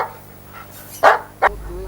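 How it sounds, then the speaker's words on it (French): Dogs at a dog breeding yard letting out two loud, short barks close by, separated by a pause, over quiet background sound. "nous sommes accueillis par des aboiements de chiens"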